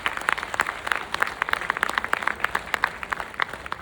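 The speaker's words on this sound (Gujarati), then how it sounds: "એના માટે એકવાર જોરદાર તાળીઓ પાડો" A hall audience at a women's association silver jubilee celebration in Mumbai claps heartily, a dense, steady wash of many hands close by that continues throughout without any speech.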